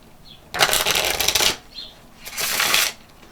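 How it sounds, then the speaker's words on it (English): Two quick riffle shuffles of playing cards, each a crisp fluttering burst of about a second, separated by a short pause. "You can give it a riffle shuffle."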